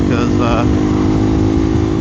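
KTM Duke 390 Gen 3 motorcycle with a stock exhaust and a DNA stage 2 air filter and cover, giving a throaty, steady engine drone at close range, with a voice talking over it early on.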